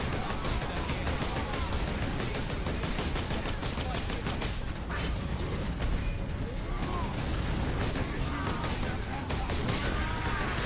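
Gunfire from the Space Marine video game comes as dense, rapid, overlapping bursts with crashes, continuous and loud across the whole stretch.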